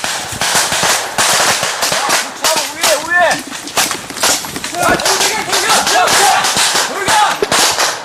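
Rapid gunfire crackles in dense, irregular bursts of sharp shots, loud and close, with shouting voices mixed in throughout, during a surprise attack in Korean army combat training.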